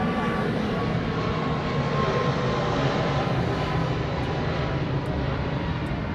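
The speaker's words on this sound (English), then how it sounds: "So this Southwest here is heading off to Lehue." A Southwest airliner departs Honolulu for Lihue, its jet engines holding a steady, loud broadband roar from start to finish with no voices.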